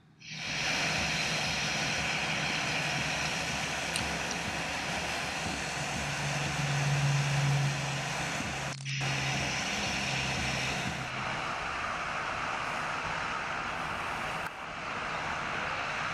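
A float plane engine drones steadily and loudly, with a broad roaring hiss and a low tonal hum that holds for several seconds, then eases slightly in pitch and level.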